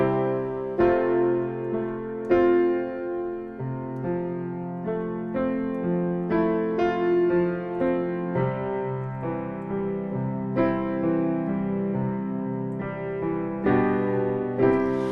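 The right-hand piano part of a song is played alone, a steady, moderately loud sequence of ringing chords and notes that overlap as they decay, with no talking.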